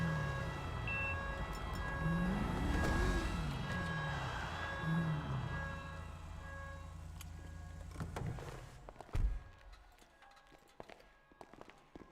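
A wailing ambulance siren from a video game sweeps up and down in pitch over steady engine hum, loud and continuous before fading out near the end amid a few clunks.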